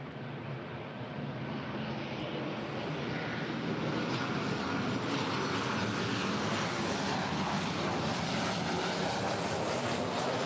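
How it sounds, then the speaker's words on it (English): An Alaska Airlines Boeing 737-800 arrives at LAX, a steady, loud jet roar that swells slightly as it nears, with a broad rushing wash and no voices. "That's followed by Alaska Airlines, flight 882, coming in from Kahului."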